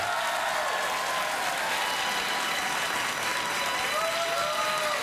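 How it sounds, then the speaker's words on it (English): Studio audience applause on a late-night talk show, a dense, steady wash of clapping that stays loud and even throughout, with a faint hum underneath. "That's not worthy of a round of applause."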